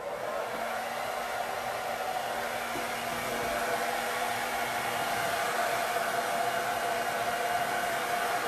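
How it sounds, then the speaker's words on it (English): A hair dryer blows steadily to heat-set ink on a craft project, a continuous close airy whoosh with a faint tonal hum, running without a break. "I'm just going to blow dry it."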